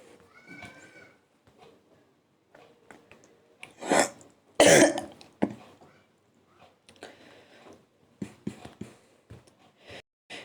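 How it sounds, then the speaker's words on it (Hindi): A man coughs several times in short bursts during a lecture, loud and close, with throat clearing and faint scattered noises between the coughs; no words spoken. "देखिए हल्का खांसी आ रही"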